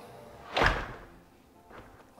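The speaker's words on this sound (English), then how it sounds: "let me shut this door." A door in a new-construction model home swings shut with a single solid thud, loud and close, its reverberant tail fading into a quiet room, followed by a faint softer knock.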